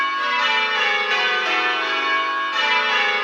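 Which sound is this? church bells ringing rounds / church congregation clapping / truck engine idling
church bells ringing rounds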